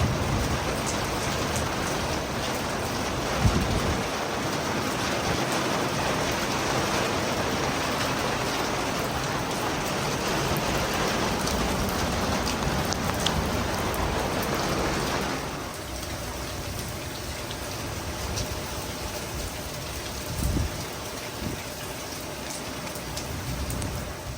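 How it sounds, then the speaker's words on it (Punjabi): Heavy rain pours down steadily across a village, a dense continuous hiss of drops on surfaces that eases slightly partway through, with no voices. "ਬਾਰਿਸ਼ ਚੰਗੀ ਪੈ ਰਹੀ ਹੈ ਜੀ"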